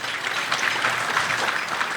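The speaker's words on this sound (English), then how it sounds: "Round of applause for them." Audience applause for gold-member sponsors at a chamber of commerce economic forecast event, steady dense clapping from a crowd filling the whole moment, fairly loud and without voices.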